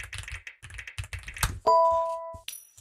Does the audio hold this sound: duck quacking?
no